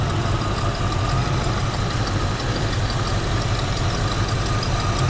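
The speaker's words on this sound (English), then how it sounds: "it's barely idling right now" A 1976 Ford van engine barely idling, a steady low rumble with a faint uneven knock that runs unchanged and close by throughout, with no talking.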